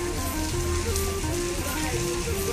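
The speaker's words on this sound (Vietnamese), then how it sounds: "Mưa càng ngày càng nặng hạt nha." Steady rain falls at night in Sapa, a dense continuous hiss of drops on surfaces, loud and unbroken throughout.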